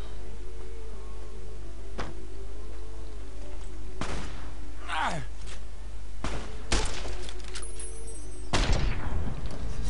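Gunfire from Fallout New Vegas: scattered single shots and sharp impacts, some loud and close, at irregular intervals over a steady low background hum.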